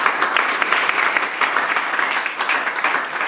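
Congregation in a church service applauding loudly and steadily, dense continuous clapping filling the space throughout with no pauses.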